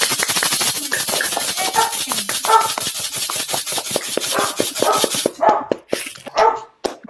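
A dog barks repeatedly up close over a fast, regular rasping rub, the barks sharp and loud, continuing in short bursts after the scraping ends.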